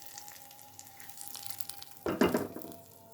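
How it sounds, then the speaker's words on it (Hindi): Quiet kitchen background gives way to a sudden loud sizzle as a tempering for mash dal hits hot oil in a wok, crackling strongly before easing slightly. "हमें इसे फ़ौरन से पहले कढ़ाई में तड़का लगाना है"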